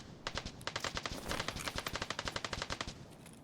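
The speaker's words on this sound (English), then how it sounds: "I hear somebody shooting out there" Rapid bursts of automatic gunfire from a machine gun in the video game Escape from Tarkov, sharp sharp cracks repeating in a fast steady rhythm for several seconds, fairly prominent with no talk over it.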